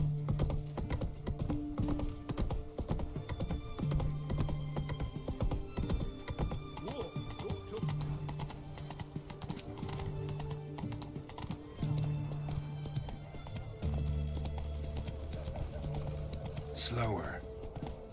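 Horse hooves gallop in The Witcher 3 video game with a steady, driving clip-clop rhythm that runs throughout, close and loud, with a neigh and someone talking over it.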